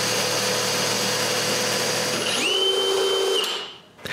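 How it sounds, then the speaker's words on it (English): A power drill bores shallow holes into the center of hinges on a walnut clock case, a steady motor whine that rises in pitch as the bit bites, holds, then cuts off abruptly near the end. "I begin by drilling some shallow holes in the center of the hinges"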